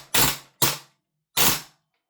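Lambda Defence GHM9 Gen2 gas blowback airsoft rifle firing three short, sharp, loud bursts, close by, with a longer gap before the last, no voices.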